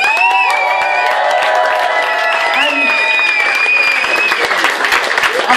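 Club audience at a hip hop show in Berlin applauding and cheering loudly, a dense steady wash of clapping with whistles and shouts throughout, close and sustained.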